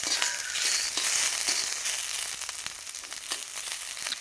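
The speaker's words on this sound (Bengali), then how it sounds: "আমি কিছুক্ষণ নাড়াচাড়া করব, তারপরেই মূলো ভাজা হয়ে যাবে" Grated radish greens fry in a pan with turmeric, giving a steady hiss and sizzle broken by frequent scraping stirs of the spatula, close and fairly loud with no talk.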